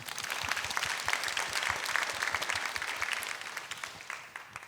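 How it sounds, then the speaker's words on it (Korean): Audience applause at a Korean economics concert on the coming population cliff, a steady, fairly quiet wash of many hands clapping that fades slightly toward the end. "박수 한번 부탁드리겠습니다."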